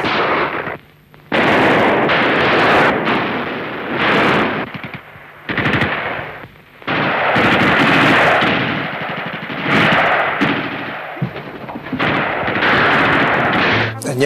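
Archival street fighting near a railway bridge on a city avenue in Czechia in 1945, with bursts of machine-gun and rifle fire crackling loudly in dense, irregular volleys and short pauses between them.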